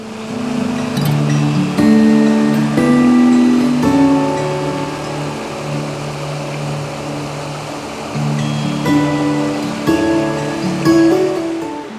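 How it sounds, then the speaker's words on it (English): High Force, a tall waterfall in the Lake District, roars as a loud, continuous rushing of water, with some fluctuating tonal background sounds mixed in and no speech. "So, this is the waterfall."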